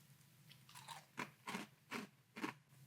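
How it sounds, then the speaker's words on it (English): Someone crunches 7 Sundays pumpkin spice oat protein cereal in a steady chewing rhythm of about five bites, close and quiet with no talk. "Let's try 7 Sundays real pumpkin spice oat protein cereal."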